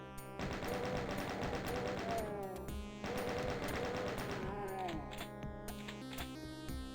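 Rapid game gunfire from Doom's Plutonia MAP31 as chaingunners are gunned down, a dense continuous burst of shots with brief pauses, loud and busy with overlapping game effects and no talk.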